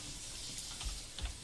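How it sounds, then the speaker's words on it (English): Fingers type on a computer keyboard in quick soft clicks under a steady hiss, with a couple of heavier key thumps toward the end and no voices. "I'm just typing in"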